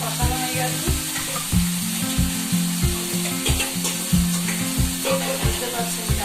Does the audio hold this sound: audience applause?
no